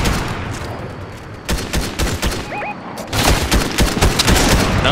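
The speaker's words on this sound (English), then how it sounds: "there's people sniping at us" Gunfire crackles in the Fortnite video game while players are being sniped at, repeated sharp shots in bursts that grow denser toward the end, with no talking.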